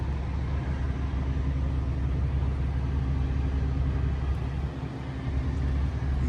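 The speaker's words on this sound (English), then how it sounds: "Even when it's cold and you have to play with the choke, it starts immediately." A 1957 Chevrolet 3100 pickup's original engine runs at a steady idle, a dense low rumble close up and continuous with no pauses or voices.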